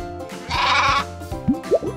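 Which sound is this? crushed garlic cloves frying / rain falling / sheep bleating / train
sheep bleating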